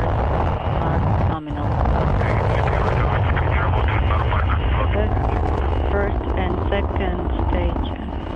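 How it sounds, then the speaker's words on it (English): Engines of a Soyuz rocket roar at the liftoff of Soyuz TMA-16, a loud, dense, sustained rumble. A voice speaks over the thundering launch noise. "Liftoff of the Soyuz rocket as Jeff Wiliams, Max Suraev, and Guy Laliber"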